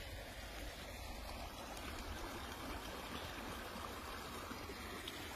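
A river in Palo Duro Canyon flows with a steady, faint rushing wash that holds evenly throughout, heard outdoors from the bank.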